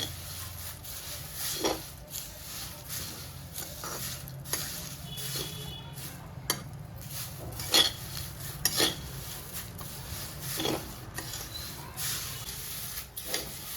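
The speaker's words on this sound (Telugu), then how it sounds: "తిప్పుకుంటూ అట్నే వేయించుకోవాలి" Curry leaves being stirred and dry-roasted in a pan for karam podi, with soft scraping, rattling and crackling of the leaves under a steady low background hiss, punctuated by occasional sharper clinks of the spoon against the pan.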